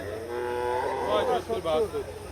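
A beef cow at a traditional cattle market lows in a couple of drawn-out moos, close and fairly loud, with no talk over it.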